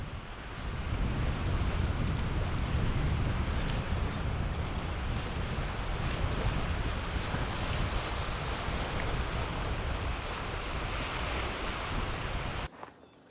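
Ocean waves crash and wash against the rocky Massachusetts shore where purple sandpipers feed on seaweed, a dense, loud, continuous surf roar mixed with wind that cuts off abruptly at the end.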